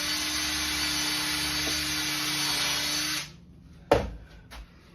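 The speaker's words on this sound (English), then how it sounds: "I'm going to pre-drill one screw right in the end." A power drill boring a pilot hole into the end of a wooden frame for a seedling enclosure, a steady high whine for about three seconds that stops abruptly, followed by a sharp knock and faint handling sounds.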